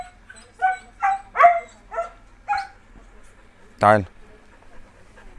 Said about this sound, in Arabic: المكان ده فيه كلاب بلدي كتير قوي